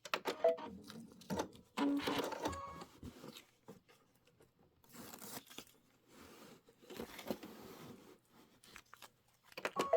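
An embroidery sewing machine stitches bat embellishments onto a Kimberbell Pumpkins and Potions project, running in short, quiet bursts of rapid stitching separated by pauses.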